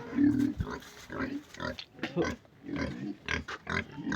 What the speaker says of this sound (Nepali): सुँगुर नकरा न मेरो सानो सुँगुर नकरा